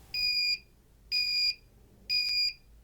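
An active 5V piezo buzzer alarm sounds three evenly spaced shrill beeps, each about half a second long, with short silences in between.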